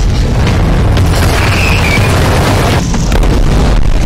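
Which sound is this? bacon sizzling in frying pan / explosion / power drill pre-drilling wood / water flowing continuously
explosion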